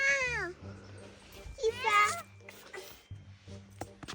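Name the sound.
cat meowing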